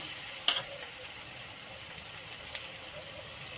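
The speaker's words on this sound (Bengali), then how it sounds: "বড়াগুলো ছেড়ে দেওয়া হচ্ছে তেলের মধ্যে লাল লাল করে ভাজা হবে" Drumstick flower fritters sizzle in hot oil with a faint, steady crackle broken by scattered small pops, heard alone without talk.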